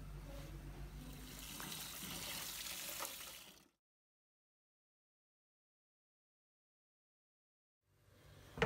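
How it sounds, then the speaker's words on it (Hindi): Water chestnuts washed in water in a home kitchen, with a steady splashing, trickling wash for a few seconds, then silence, and a faint return of water sound near the end. "इनको मैं अच्छी तरह धो लूँगी क्योंकि इसमें होती है बड़ी मिट्टी"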